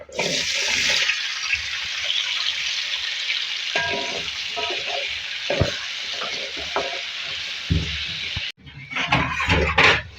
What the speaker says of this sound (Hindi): देखिए थोड़ा सा तेल लिया, इसमें आलू फ्राई करेंगे